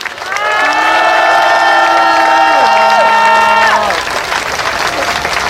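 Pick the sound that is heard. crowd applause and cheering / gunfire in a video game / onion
crowd applause and cheering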